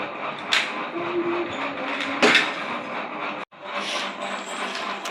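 A toy train engine runs on its track with a steady mechanical whirr close by, broken by a few sharp clicks and one brief cut-out.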